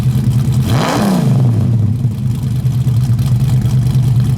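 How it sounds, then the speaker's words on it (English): Loud, close V8 of a 1968 Ford Mustang coupe with a cam: a single sharp rev that quickly falls back to a steady, lumpy idle. "The nice old school V8 sound, very loud, nearly blew my eardrums out when he gave it a couple of revs."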